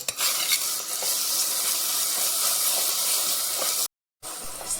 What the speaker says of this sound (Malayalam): ഉപ്പിട്ടിട്ട് നമുക്ക് ഒന്ന് ഇളക്കാം